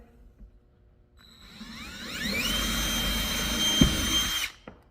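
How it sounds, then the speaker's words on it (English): A power drill whirs up to a high steady whine, drilling a pilot hole in metal, and runs for a couple of seconds before stopping abruptly, close and loud. "drill what's called a pilot hole"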